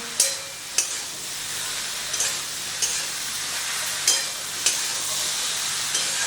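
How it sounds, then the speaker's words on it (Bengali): Ridge gourd sautéing with spices in a pan without added water: a steady oily sizzle with periodic sharp scrapes of a spoon stirring, roughly every second, alone with no talk. "এখন নেনুয়াটাকে মশলার সাথে খুব ভালো করে কষিয়ে নেব"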